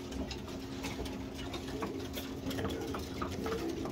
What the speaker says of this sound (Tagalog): dami daming ibon na rin, biglang dumami